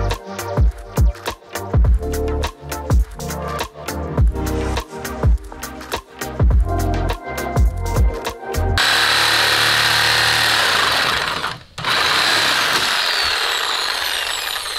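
A Sawzall reciprocating saw cuts through the metal body of a Ferrari F355, rapid rhythmic rasping strokes in bursts for about nine seconds, then a continuous louder grinding cut with a brief pause near the end.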